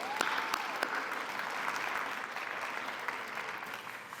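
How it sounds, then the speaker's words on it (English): Audience at an employee recognition and retirement program gives a round of applause: steady, fairly faint clapping from a crowd, with a few distinct near claps early on, continuing without pause. "Let's give them a round of applause anyway"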